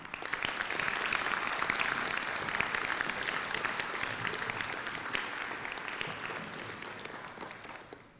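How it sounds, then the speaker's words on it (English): Sustained audience applause for the high school band and its conductor at a Vicenza High School graduation ceremony, dense and steady throughout before tapering off at the very end. "May we first have a round of applause for the VHS Band and Dr. Black as the conductor"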